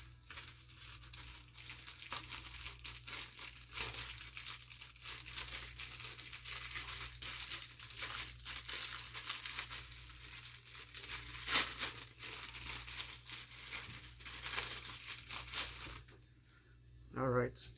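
Plastic cards are worked under a MacBook battery to pry it up, producing close, continuous scraping, crinkling and rustling with occasional sharper clicks, ending in a brief quieter pause.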